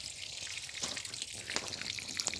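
Water runs and trickles steadily from adjustable drip irrigation emitters, a continuous close-up splashing hiss with a few brief drip-like accents and no talking.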